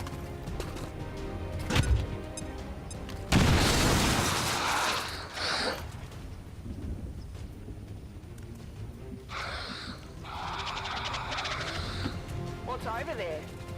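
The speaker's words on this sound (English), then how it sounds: "Grenade out." A loud, booming grenade blast in the XCOM 2 video game, one heavy burst followed by crackling debris and a softer second rumble, with game ambience and a voice talking over it.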